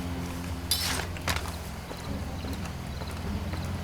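Horse hooves clip-clop at a steady galloping rhythm in the video game Far Cry 2, fairly close and moderately loud against a constant low in-game hum.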